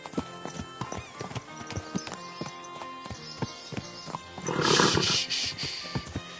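Horse hooves clip-clop steadily through a scene in Kingdom Come: Deliverance 2, followed by a brief loud whinny or snort near the middle before the hoofbeats continue alone.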